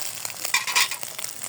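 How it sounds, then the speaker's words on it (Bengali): Eggs fried one at a time in a pan in a village home kitchen: a brief spell of close sizzling with sharp crackles and spits that swell in the middle, with no talking. "আমি একটা একটা ডিম ফেটে একটা একটা করে ভেজে নিব আলাদা করে।"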